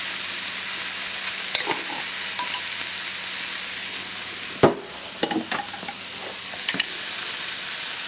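Turmeric, cumin and salt fry in a pan with a steady, even sizzle. Around the middle, a sharp clatter and several scraping stirs interrupt it.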